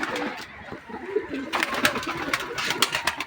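Young pigeons in a pigeon loft coo softly in repeated low, throaty calls, several birds overlapping close by, with a faint voice in the background.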